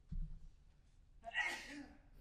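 A single sharp sneeze bursts out in a quiet lecture hall, preceded by a soft breath or intake, moderately close and alone without talk.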